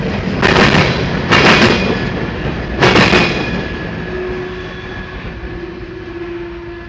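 A CSX freight train passes at Plant City, Florida, with a loud, steady rolling roar and heavy clanks near the start that fade slowly as the cars go by.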